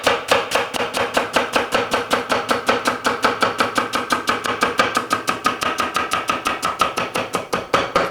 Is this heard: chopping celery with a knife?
yes